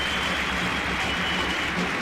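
Arena crowd at a EuroLeague Women 2022 basketball game between Perfumerias Avenida and Spar Girona cheers with a dense, steady roar that fills the whole stretch without letting up.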